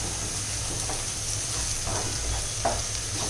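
Prawn malai curry masala with tomato ketchup fries in a pan, a steady loud sizzle and hiss with a few faint stirring scrapes, heard alone.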